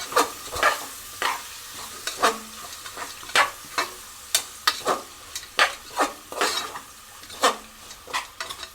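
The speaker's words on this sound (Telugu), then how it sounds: "బగారా రైస్లోకి ఉల్లిపాయలు కూడా బాగా ఫ్రై అయిపోవాలన్నమాట" Sliced onions for Telangana bagara rice frying and sizzling in a pan, stirred with a utensil in a steady series of scraping, clinking strokes over a continuous crackle, close and alone without talk.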